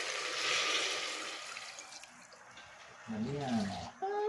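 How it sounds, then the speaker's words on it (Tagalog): Water poured into a cooking pot of macaroni soup seasoned with fish sauce, a steady splashing rush that fades, then voices talk briefly near the end. "Lagyan ko na ng tubig."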